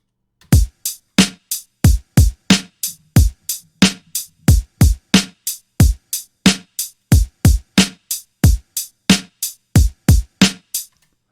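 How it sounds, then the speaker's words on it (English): Drum kit programmed in FL Studio playing alone, with no bass or piano: about two dozen sharp, loud, evenly spaced hits in a steady rhythm, punchy low thumps topped by bright crisp tops, and no talking. "we have a drum kit. So, let's hear it, how it sounds without piano, bass, and everything else."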